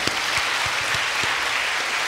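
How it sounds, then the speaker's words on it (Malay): Audience applause for UKM at the opening ceremony of a national young Islamic leadership convention, a steady dense wash of many hands clapping that holds evenly throughout, moderately loud with no talk over it. "tepuk tangan kepada UKM"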